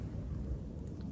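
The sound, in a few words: distant thunder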